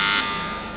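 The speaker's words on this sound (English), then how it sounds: "I think you made it in on the buzzer." A quiz show answer buzzer gives one short, harsh electronic tone, loud and close. It cuts off quickly and leaves a faint steady hum.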